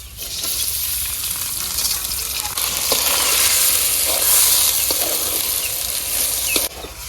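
Polao rice frying in a pan with cinnamon, cardamom and cloves, a steady loud sizzle with a few brief stirring scrapes throughout.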